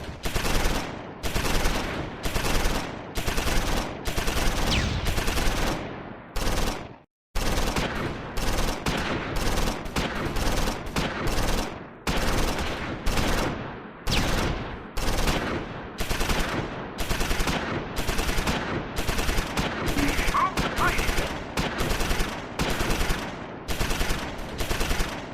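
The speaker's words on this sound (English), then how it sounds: "moves forward to put enfilade fire on the German infantry." Enfilade gunfire poured onto German infantry in Close Combat 4, set in the Battle of the Bulge at Wiltz, December 1944: loud, steady machine-gun bursts repeating rhythmically for about 25 seconds, with one brief gap early on.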